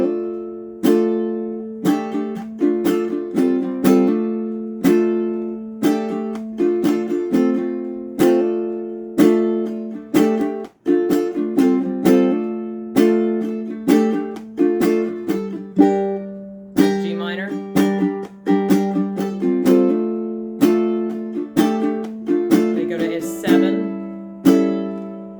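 Ukulele strummed through the repeating verse pattern of a song, steady rhythmic chords with percussive muted strokes, close and loud, played alone without talk for about 25 seconds.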